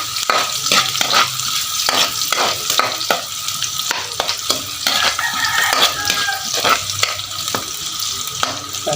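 Garlic and onion sauté in a hot pan with a loud, continuous sizzle and frequent scraping strokes of a spatula against the metal. No one speaks.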